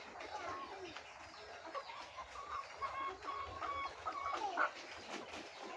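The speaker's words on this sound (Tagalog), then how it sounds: "itong mga manok na to mga ka-farming, dumating to sa akin noong February 25." Chickens on a small farm flock of about 151 birds cluck and call in a busy overlapping chorus, with soft bursts and occasional louder squawks at moderate distance. Faint human voices sit in the background.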